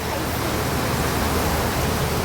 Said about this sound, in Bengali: একদম ঝুম বৃষ্টি শুরু হয়েছে, কি জোরে!